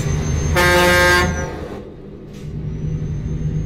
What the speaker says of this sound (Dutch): Ik ga even toeteren naar die vent.